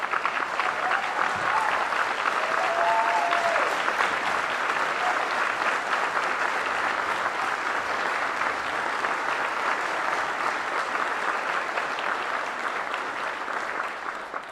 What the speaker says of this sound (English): I ask you to give her a big round of applause